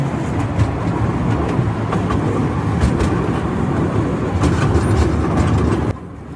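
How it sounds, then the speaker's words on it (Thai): A small tourist train rumbles steadily along its tracks nearby, with a continuous rattling roar that drops off abruptly near the end. "เขาก็จะทำเป็นทางรถไฟนะคะ เขาก็จะมาหลายรอบมาก"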